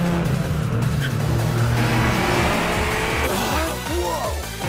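Race cars in the Initial D anime speed through the final corner of a mountain race, with a loud, close engine roar rising and sweeping past as tires squeal and skid through the turn.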